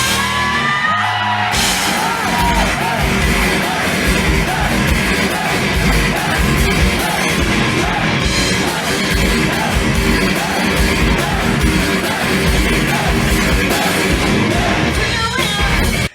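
A live crowd at a rock concert at Irving Plaza in NYC shouts "hey" along with the song, their yells blended into loud, dense band music that runs throughout.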